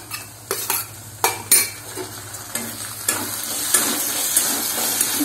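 A spatula scrapes and stirs cumin paste with coriander powder and other spices frying in a metal pan, producing loud, uneven strokes and clatters over a continuous low sizzle.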